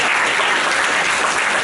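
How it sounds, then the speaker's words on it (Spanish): Audience applause at a football film festival talk, a steady, dense wash of clapping filling the room for the whole stretch with no voices over it. "Un aplauso, por favor"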